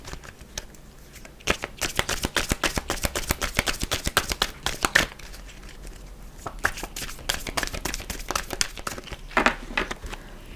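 Tarot cards shuffled by hand during a Pisces reading: a rapid run of crisp riffling flicks and soft slaps that continues steadily and up close, with no talking over it.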